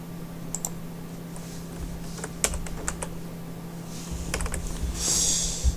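Keyboard shortcut keys pressed while keyframing in After Effects, a quiet run of sharp separate clicks and taps, some in quick pairs, over a steady low hum.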